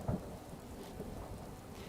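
Steady rain falls in the snowy landscape of the video game Skyrim, a soft, continuous hiss with a low rumble underneath, even and unbroken throughout at moderate level.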